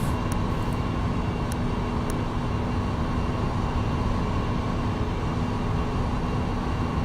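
A FlightFactor 777-300ER in the X-Plane 11 flight simulator accelerates, producing a steady, dense engine roar that stays constant and loud throughout, with a few faint clicks early on.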